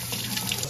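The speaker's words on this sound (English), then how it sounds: "Make sure you wash your peppers with water." Tap water runs steadily into a sink while peppers are rinsed, a brief close, even rushing splash.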